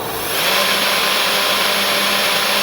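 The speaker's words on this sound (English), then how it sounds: "Turning things on, and you'll hear probably mostly the vacuum." Loud, steady roar of a vacuum with a DIY CNC mill motor spinning up, continuous broadband whine that swells in the first half second and then holds.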